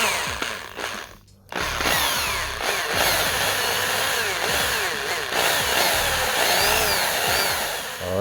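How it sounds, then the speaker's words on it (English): A power drill bores into a Hot Wheels Celero GT die-cast metal car, a loud, close whine that stops briefly near the start, then runs continuously with shifting pitch as the bit bites the metal. "Alright, the drilling part for all the people that like to see this."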